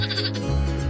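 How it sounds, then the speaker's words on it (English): A mother sheep bleats close up, one sustained wavering bleat that shifts pitch partway through, loud and clear with no talk over it. "here comes the mother sheep, just to check out the new little lamb"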